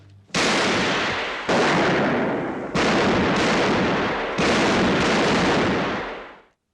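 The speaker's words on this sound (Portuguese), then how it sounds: "Então é muito legal esse filme que mostra ali como foi esse tiroteio" Gunfire from the shootout in Gunfight at the O.K. Corral, a western film with Burt Lancaster as Wyatt Earp and Kirk Douglas as Doc Holliday, sounds as five loud, close shots whose long echoing tails run into one another, with no talk.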